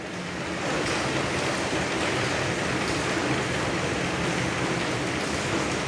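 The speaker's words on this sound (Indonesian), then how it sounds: "Terdabing suara hujan nggak?" Steady, dense rainfall during an evening gathering, a continuous loud hiss of drops filling the whole stretch without breaks and with no talking.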